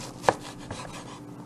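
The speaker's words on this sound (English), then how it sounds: "I'm just going to take and run my knife right down the side of it. I'm going to do about half of this white onion like that." A knife strikes a cutting board once sharply while slicing a white onion, followed by a softer second cut and light rubbing, all close and brief with no talk.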